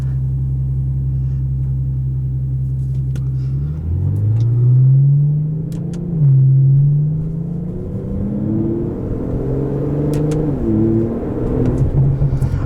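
A 2017 Aston Martin DB11 with a twin-turbo V12 idles low and steady, then accelerates hard, its engine note climbing through rising pitch sweeps with a brief shift dip, loud and close from inside the cabin, no talk.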